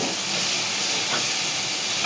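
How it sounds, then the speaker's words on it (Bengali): Whole spices, including green cardamom and cinnamon, fry in hot oil with a continuous, even hiss of sizzling, close and steady throughout with no voices. "মশলাগুলো ভাজা হয়ে গিয়েছে আর তেল উঠে এসেছে"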